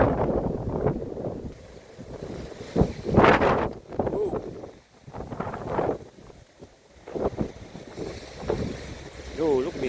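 Strong outdoor wind batters the microphone in gusty, rumbling surges that rise and fall over several seconds, while a person talks intermittently over it.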